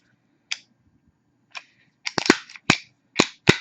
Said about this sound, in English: just pull it back, and then just put that lever back up